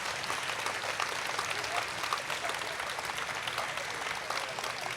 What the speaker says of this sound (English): please join us in giving them a round warm of applause